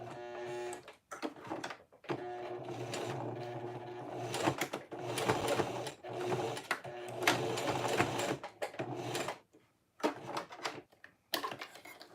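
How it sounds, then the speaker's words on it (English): A sewing machine stitches around all four sides of a cotton woven phone sling, running in close, loud bursts of rapid mechanical rattling separated by short pauses. "So I'm gonna stitch around this, all 4 sides."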